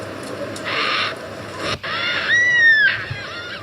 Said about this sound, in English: These are black cockatoos, really beautiful birds, really beautiful sound.